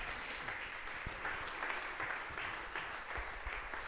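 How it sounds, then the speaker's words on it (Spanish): A church congregation applauds during a worship service, steady sustained clapping from many hands filling the room without pause, with a faint voice under it. "¿Cuántos le damos un aplauso al Señor?"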